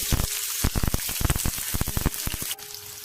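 Onions frying in a pan over a low to medium flame for a karela dish, a steady close sizzle broken by brief louder crackles, dropping somewhat quieter near the end with no talk.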